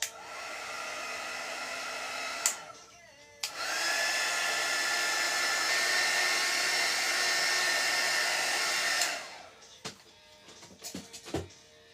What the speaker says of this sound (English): Let me go ahead and try and dry it as fast as possible.